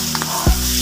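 Scallops fry in a pan with oyster sauce, giving a loud, steady sizzle that swells briefly as food hits the hot surface, with no talking.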